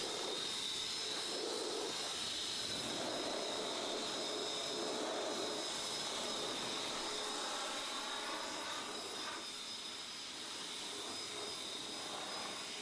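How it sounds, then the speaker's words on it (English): Air blower drying off a washed car, a steady close whooshing roar with a high whine that holds evenly throughout and eases slightly near the end, with no voices. "we went ahead and used a blower to dry the vehicle off for the final step"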